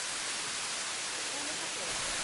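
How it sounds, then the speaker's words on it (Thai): Tat Sado waterfall, a steady broadband roar of falling water filling the whole clip with constant hiss-like rushing, no other distinct sounds standing out. "ดูครับน้ำตกตาดสะดอครับ"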